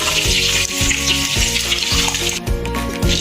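Minced meat balls frying in a pan, hotel style, with a loud, dense sizzle and bubbling, broken by periodic stirring or turning knocks, close by with no talking.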